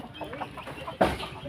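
Gamecocks (fighting cocks) cluck in a brief, close burst at a farm with many birds and rabbits, a sharp louder cluck landing near the end over low background noise.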